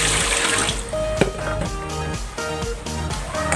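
Running water splashes steadily into a metal cooking pot for boiling chicken breast, with a few light clinks from the pot partway through.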